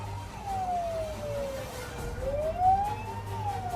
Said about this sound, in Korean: 부상자 응급처치를 위한 소방차가 사고 현장에 도착하고 있습니다